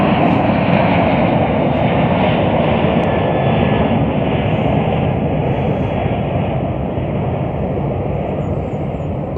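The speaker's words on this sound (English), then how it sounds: "British Airways. Heading out to London on a Boeing 777." A British Airways Boeing 777 airliner at Chicago O'Hare roars loud and steady throughout, a broad continuous engine rumble with no talk.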